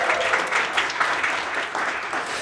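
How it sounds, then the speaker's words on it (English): An audience at a storytelling and communication conference applauds, a thick, sustained roar of many clapping hands swelling and dipping slightly, fairly loud. "Let's give him a round of applause again."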